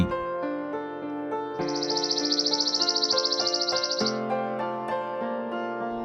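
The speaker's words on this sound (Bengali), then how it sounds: "চড়ুই" A sparrow gives a sustained, rapid high chirping trill lasting a couple of seconds, close and clear over a quiet tonal background.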